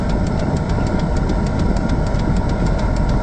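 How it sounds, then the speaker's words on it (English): A 1984 Volvo 740 GLE engine idling just after a cold start, a loud, steady close-up rumble with a fast, even ticking pulse running through it. "And I just cold started the engine."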